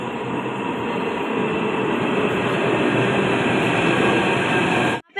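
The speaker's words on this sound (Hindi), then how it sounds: "हमारी मेट्रो तो चली गई अब" A Delhi metro train pulling out of a station: a loud, steady rushing rumble with a high whine held throughout, close by, cutting off abruptly near the end.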